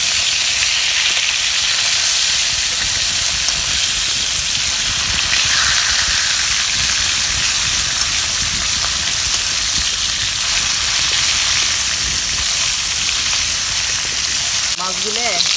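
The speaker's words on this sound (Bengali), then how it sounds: "এখন মাছগুলো দিয়ে দিলাম বাইজা উঠাই মাছগুলো এখন উল্টিয়ে দেবো" Fish sizzles loudly and steadily in a hot pan during home cooking, a dense crackling hiss running unbroken from start to finish, close up, with a brief clatter near the end.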